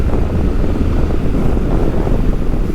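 Honda Forza scooter accelerating, heard as a steady, loud broadband rush of wind buffeting the microphone that masks any engine note, with no one talking.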